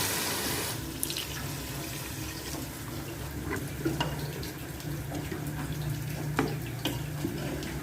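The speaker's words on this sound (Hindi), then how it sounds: "पानी 2 गिलास इसमें मिला दें।" Two glasses of water poured into a pot of mutton korma, a soft continuous splashing and trickling with a few small clinks, moderately quiet and close.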